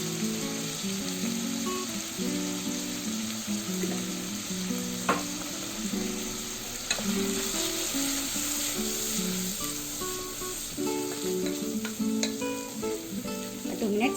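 Vegetables with turmeric fry for pressure-cooker moong dal khichdi, a constant close sizzle running throughout with intermittent scraping and tapping of a spatula in the pan, no talking, while faint tonal background music plays underneath.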